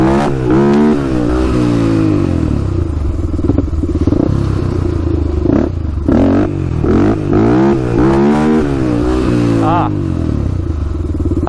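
A Honda 400ex quad's engine revs hard and falls back repeatedly as the rider attempts wheelies, loud and close with rattling and clatter, with a rider speaking over it.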